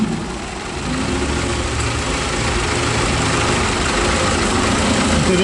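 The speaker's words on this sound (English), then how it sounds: "I'm gonna spray it around these areas to see if any changes occur in the engine RPM speed." A car engine idles steadily during a vacuum leak test on the intake manifold gasket area, with a continuous low rumbling drone that holds constant and loud throughout, with no talking.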